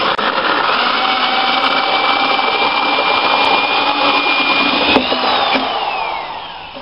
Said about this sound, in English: Drill your hole, and you see how quick that thing bites into the PVC.